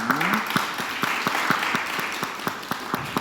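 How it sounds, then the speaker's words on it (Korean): A church congregation applauds to welcome members, with many hands clapping in a steady, moderately loud patter and distinct individual claps popping out near the front throughout. "또 환영으로 박수로 환영하겠습니다"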